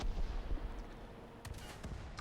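A tank cannon fires in a War Thunder-style tank battle game, a few booming shots and blasts over a rumbling battlefield background, moderately loud with no talk.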